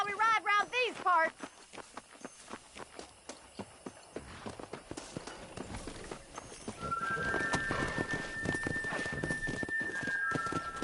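A horse in the Red Dead Redemption game, with clip-clop hoofbeats building into a brisk gallop under music, a neigh near the start and voices talking over it.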